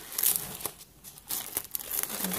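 Origami paper box with tape on it being handled up close, soft crinkling and crumpling paper rustles in short irregular bursts, fairly quiet with no voices.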